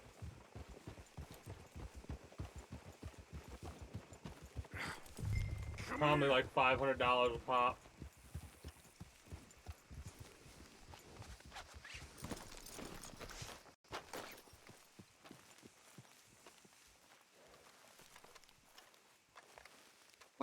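Horses walk along in the Red Dead Redemption 2 game world, a steady rhythmic clip-clop of hooves at moderate distance, running under conversation between voices for most of the stretch.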